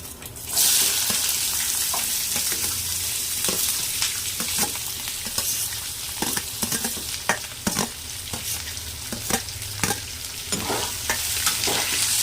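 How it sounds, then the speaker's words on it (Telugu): Steady loud sizzling of onions frying in oil with garlic and tempering spices, with repeated sharp clicks of stirring against the pan throughout. "బాగా వేయించుకోవాలి ఉల్లిపాయలు"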